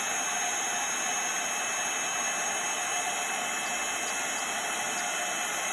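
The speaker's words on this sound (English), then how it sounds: "you're going to hold your heat gun still, and then once you see that embossing powder start to melt and change" A heat gun held still over embossing powder blows a loud, steady, close-up roar of rushing air with a high whine, unbroken from start to finish.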